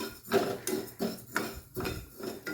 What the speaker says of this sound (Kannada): ಸೊ ಬನ್ನಿ ಇವಾಗ ಇದನ್ನು ಸ್ವಲ್ಪ ಫ್ರೈ ಮಾಡ್ಕೊಳ್ಳೋಣ.